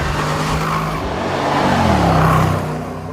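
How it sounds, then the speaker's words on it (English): A Jaguar XFR engine revs at full throttle, its loud, close roar climbing steadily in pitch as the car pulls hard, with no talk over it. "there's so much grunt from everywhere within the rev range that you just floor the throttle and it takes off"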